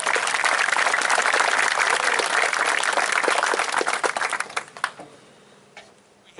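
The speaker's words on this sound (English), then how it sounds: "Give our advisors a nice round of applause." An audience at a graduation ceremony applauds the graduation advisors with steady, dense clapping for about four seconds before it thins into a few scattered claps and fades into quiet.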